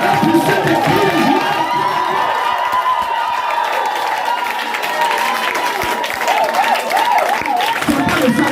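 Church congregation cheering and applauding during a lively prophetic worship service, a dense, continuous wash of clapping and shouting voices throughout, loud and close with individual cries rising above the crowd.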